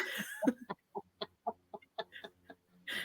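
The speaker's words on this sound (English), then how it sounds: "Oh no, my ducks are going crazy. Oh no, there's a hawk." Agitated ducks squawk and quack in rapid, uneven bursts about a dozen times in three seconds, fairly close and loud, with no talk over them.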